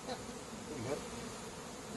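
Honeybees buzz around an opened beehive during a July hive inspection, a soft, steady drone that hangs low and continuous for the whole stretch with no voices over it.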